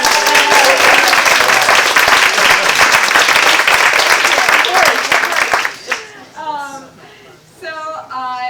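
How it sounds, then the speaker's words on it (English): Applause from an audience after a magic performance fills the room for about six seconds, dense and close, then fades as a speaker's voice takes over. "Round of applause for Jason."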